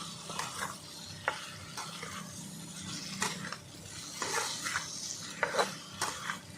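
Dried bombay duck (lote shutki) and ripe pumpkin are stirred and sautéed in a pan: a soft frying sizzle runs underneath repeated scraping and clinking spatula strokes against the metal, close and fairly quiet.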